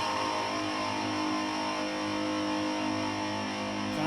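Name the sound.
A power chord on electric guitar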